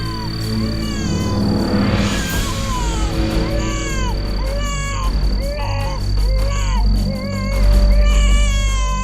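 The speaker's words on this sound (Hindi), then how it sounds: "बच्चे की रोने की आवाज।" A baby wails in repeated rising and falling cries, loud and close, within a dramatized crime-show scene set around a newborn daughter, with steady background noise and tones underneath.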